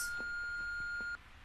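A telephone answering machine gives a single steady electronic beep, sustained for about a second over a quiet room hum and then cutting off cleanly.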